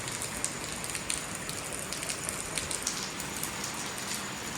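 Heavy rain pours steadily and close, a dense, unbroken hiss of drops hitting surfaces with small spattering peaks throughout, and no voices over it.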